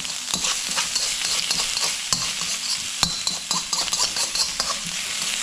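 Meatballs fry in a pan with a loud continuous sizzle as they are flipped and tossed, with clinks and scrapes of utensil against metal throughout.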